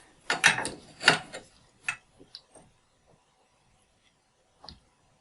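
A wrench tightens the nut of a compression shut-off valve on copper pipe, giving several close metallic ratcheting clicks and clanks in bursts, then a pause and one last clink.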